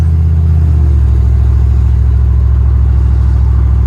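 A modified 1996 GMC K1500 Sierra 4x4 engine rumbles loud and close through its muffler, a deep steady throbbing drone with no voices.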